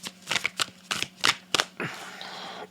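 Tarot cards are shuffled in several quick riffling bursts, each a crisp papery flutter, followed by a softer sliding rustle.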